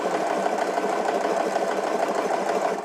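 A sewing machine doing free motion embroidery stitches at a fast, even rate, a close, continuous buzzing whir that holds steady throughout with no voices.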